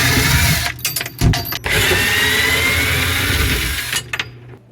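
A power drill backs screws out from inside a kitchen cabinet holding down a butcher block counter, whirring loudly and close in several bursts with brief pauses between them.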